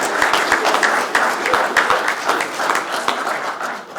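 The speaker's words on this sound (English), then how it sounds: "Please give a warm round of applause." Audience applause at a Latrobe City citizenship ceremony, a steady wash of many hands clapping that stays loud and dense from start to finish without talk.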